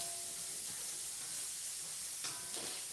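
Shrimp stir-frying with garlic and ginger in a carbon steel pan gives a steady, bright hiss of sizzling, with a couple of short louder crackles near the end as the food is moved around.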